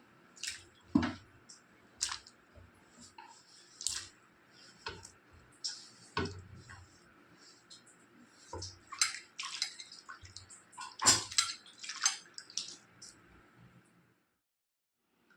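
Sliced raw green mango pieces being rinsed in water, with scattered drips, splashes and clinks of pieces in a bowl, irregular and close, no talk.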